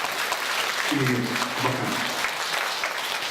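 Concert audience applause at a jubilee concert for a Khakas composer, a dense steady clapping across the whole span while someone speaks over it briefly.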